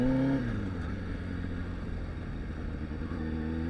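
A Honda motorcycle on a highway in the rain, its engine droning steadily with a shifting pitch at the start over a constant wash of wind and road noise.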